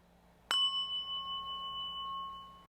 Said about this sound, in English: and it's not an alarm. It's just a chime.